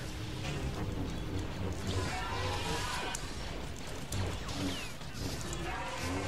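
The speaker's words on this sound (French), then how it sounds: "on va mettre un petit bouclier d'éclair." Lightning shield power from the Star Wars game The Force Unleashed: a steady, dense electric crackling and sizzling hum that runs for several seconds at moderate loudness, with scattered sharper snaps over the game's background.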